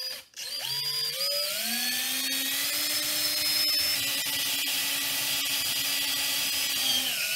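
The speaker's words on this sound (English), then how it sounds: "put markers where you're going to drill your holes to secure this knife in the handle" Power drill boring holes into a wooden spear handle to secure a knife blade, a close whine that spins up and then holds a steady pitch as the bit cuts into the wood, with no talking.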